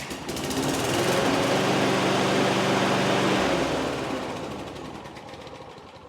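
A Briggs & Stratton lawnmower engine sputters to life and runs loudly and steadily, its rattling drone filling the air before easing slightly toward the end.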